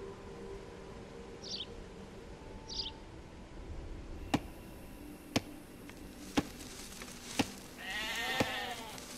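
Sheep in the Age of Empires 2: Definitive Edition game give two brief soft bleats, followed by a series of sharp evenly spaced clicks and a short rising warble at the end.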